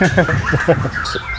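An albino pentet songbird gives quick, harsh chattering calls close up, several short notes in rapid sequence within a brief burst.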